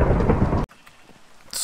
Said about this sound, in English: Oh, these freaking storms.